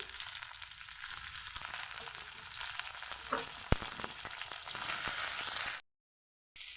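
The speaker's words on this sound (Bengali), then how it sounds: "ফোড়নের মধ্যে ফুলকপি আর আলুটা আমি দিয়ে এখন ভালো করে ভেজে নেব" Cauliflower florets and potato pieces fry together in hot oil with tempered whole spices for a Bengali home dish, giving a loud, steady sizzle with a few sharp clicks from stirring before an abrupt brief silence.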